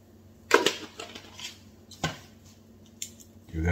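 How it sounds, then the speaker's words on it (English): A spoon stirs a stuffing mixture with sour cream and parsley for stuffed lobster tails in a bowl, giving a few close, brief scrapes and clinks against the bowl with quiet gaps between them. "Give that a quick stir."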